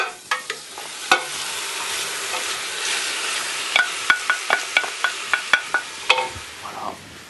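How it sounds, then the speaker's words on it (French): Chicken pieces are stirred in a hot pan for a coconut-milk and black-mushroom dish, giving a steady sizzle broken by a string of sharp utensil scrapes and clicks against the pan, close and moderately loud. "J'incorpore la volaille."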